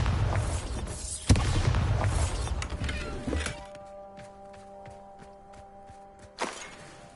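The Bombarda explosion spell in Hogwarts Legacy: a sharp thudding blast over a rumbling, mechanical background, followed later by quieter clicking and a second, smaller thump.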